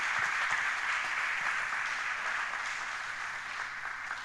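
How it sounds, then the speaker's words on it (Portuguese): A church congregation applauding, a dense, even wash of clapping that sounds distant and fairly quiet, holding steady for several seconds without a voice over it. "Você pode dar um aplauso ao Senhor?"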